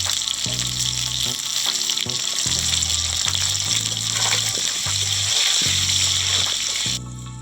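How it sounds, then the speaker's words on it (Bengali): Potatoes seasoned with salt and turmeric fry in hot oil, a loud, continuous close sizzle and bubbling that holds steady before easing slightly near the end, with a low hum beneath; no speech. "লাল লাল করে আলুগুলো ভেজে নিয়েছি, এবার তুলে নেব।"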